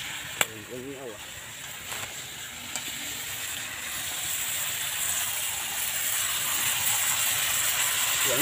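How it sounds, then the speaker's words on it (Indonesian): Softshell turtle meat frying in hot oil, a steady loud sizzle and hiss that builds and fills the whole clip, with a few faint clinks near the start. "Goreng dulu ya."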